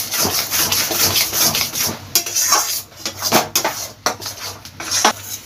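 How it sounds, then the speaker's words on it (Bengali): A spatula scrapes and clatters against a pan, stirring a paste of coconut, poppy seeds and green chillies in hot oil. The irregular metallic knocks and scrapes sound close, with no talking. "যে নারকেলটা পোস্ত দিয়ে আর 4টে কাঁচা লঙ্কা দিয়ে পেস্ট করে রেখে দিয়েছিলাম সেটা এই সময় দিয়ে দেবো, দিয়ে ভালোভাবে কষিয়ে নেব।"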